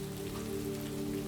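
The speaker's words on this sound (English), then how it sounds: "a promise of serenity that awaits you in the drifting patter of rain" Gentle rain patters steadily and evenly, a soft continuous wash of droplets on surfaces, calm and unbroken with no voices present.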